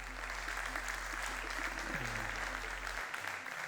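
Audience applause welcoming a speaker at a conference presentation, a steady wash of clapping over a low hum that fades near the end.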